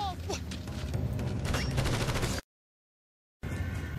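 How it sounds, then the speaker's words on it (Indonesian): Gunfire in a sci-fi action film about humans fighting aliens, a dense burst of shots and booms under loud film soundtrack, cutting to silence before the action resumes. "Brex tertembak, tetapi Brex bisa hidup kembali"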